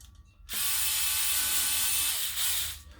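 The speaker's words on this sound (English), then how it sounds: "a couple of screws will lock this into place" A power driver runs screws in to lock a plunger rod keeper during assembly, one loud, steady ratcheting whir of about two seconds that starts abruptly, dips briefly, then stops.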